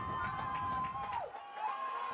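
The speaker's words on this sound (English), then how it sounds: "The crowd getting loud here." Crowd noise builds at a high school football game between RJ and Highlands Ranch, a dense roar of a stadium crowd near the goal line, loud and steady throughout with a brief dip midway, no clear talk on top.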